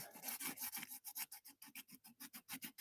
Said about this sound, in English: I'm going to use some, maybe like 1000 grit sandpaper, nothing too strong. And we're just going to go back and forth on it